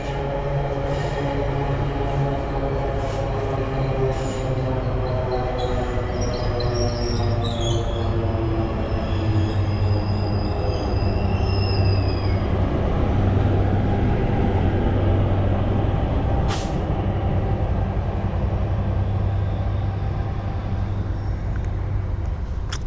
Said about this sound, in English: I think that's safe to say that was the same train.